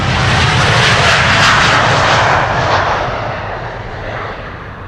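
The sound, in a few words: KLM Boeing 787-10 Dreamliner taking off for Bogota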